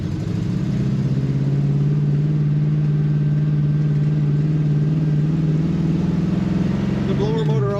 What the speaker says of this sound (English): You even get a little bit of exhaust wrap noise as you downshift